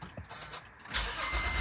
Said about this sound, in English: And look at that. The engine fired right up.